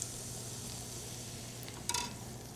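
Crepe batter sizzles steadily in a hot pan, a constant bright hiss with a brief louder flare of spattering near the end, no voices over it.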